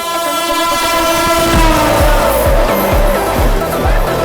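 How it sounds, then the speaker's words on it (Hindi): Sealdah Rajdhani Express passes on a parallel track while overtaking, with loud rhythmic clickety-clack of wheels over rail joints and a sustained horn, close and continuous with no talking. "सियालदह ने हम लोग को ओवरटेक किया।"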